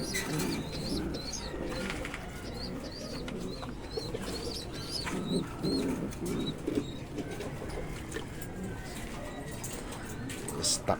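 Young pigeon squabs make soft cooing and squeaky chirping calls, mixed with chatter and background noise, with people talking nearby.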